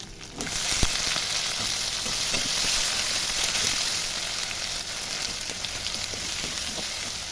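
Chopped tomatoes go into a pan of spices fried with ginger, cumin and dried chilli paste, setting off a loud, dense sizzle that holds steady throughout, with one sharp clink near the start.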